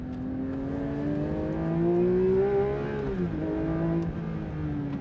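A road-going sports car engine that revs to 9,000 RPM climbs and holds a loud, smooth, high-pitched howl on a race circuit, with a brief dip before it pulls on again.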